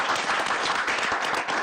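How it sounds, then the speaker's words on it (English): Applause fills a commissioners' board meeting after news that the retirement fund is fully funded, a steady dense patter of clapping hands lasting throughout at even loudness. "That's an applause."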